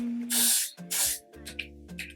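Two quick hissing bursts from a spray bottle up close, spraying during a glueless wig install, followed by fainter short spritzes, over a low hum.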